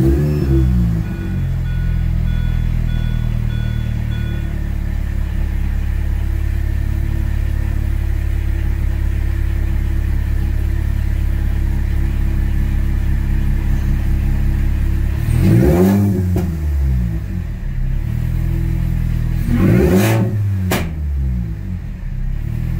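A modded Mini Cooper R53 with a new exhaust idles with a loud, steady low rumble, then gives two sharp revving blips near the end that swell and fall back to idle.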